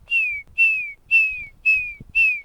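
A person whistles an imitation of a red-shouldered hawk's call five times in a row. Each note is a high, clear whistle that slides slightly downward, evenly spaced and close, with faint low rumbling in the background.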